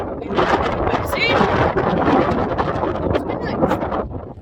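Gusty wind at Highcliffe Beach batters the microphone in loud, rumbling bursts that rise and fall irregularly across the clip.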